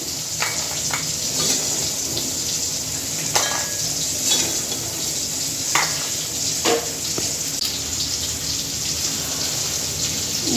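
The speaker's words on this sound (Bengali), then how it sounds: "প্রথমে বড়িগুলো লাল লাল করে ভেজে তুলে নেব" Lentil dumplings (bori) fry in hot oil, a loud, steady, crackling sizzle heard close up, broken now and then by sharp scrapes and clicks of stirring.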